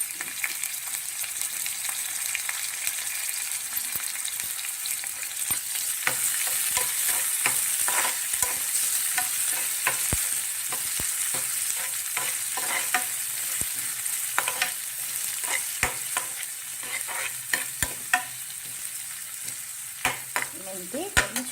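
Fenugreek and coriander leaves fry in hot oil after onions, with a steady close sizzle and repeated scraping stirs and clicks of a spoon against the pan throughout, no voices.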